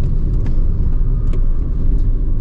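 A BYD Yuan Pro SUV under hard acceleration, heard from inside as a loud, steady low road rumble and drivetrain drone with a few faint ticks on top, with no speech.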